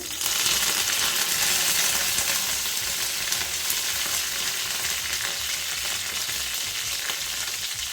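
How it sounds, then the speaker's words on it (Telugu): Curry leaves, green chillies and split chickpeas sizzle loudly in hot oil for an Andhra-style drumstick curry. The dense crackling frying runs close and continuous throughout, with no voices. "పచ్చిమిర్చి ఇవన్నీ ఒక్కసారి ఫ్రై చేసుకోవాలి"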